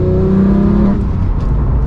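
Porsche 991.2 911 GT3 with manual gearbox pulling hard from second gear: a loud, close, steady engine roar with a rising tone that drops away about halfway through, then carries on as a lower, even drone.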